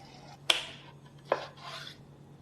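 A knife scores a block of Japanese konnyaku yam cake in a crisscross pattern, giving two sharp, close taps of the blade against a cutting board with a soft scrape between them.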